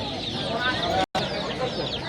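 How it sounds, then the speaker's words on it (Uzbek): Roosters cluck and call in a crowded poultry market, over a dense, noisy hubbub with voices mixed in and a sudden brief cut to silence midway. "Tak, mana xo'rozchalarimiz."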